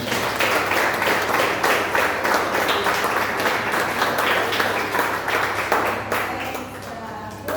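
A church congregation applauds in a garage worship service, a full, lively round of clapping with distinct individual claps standing out, easing off near the end as another sound begins.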